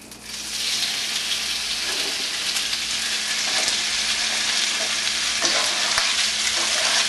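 Squid sizzles in a hot pan, a steady, bright hiss of frying that starts quickly and holds evenly throughout, close and loud, with a few small pops and no talking.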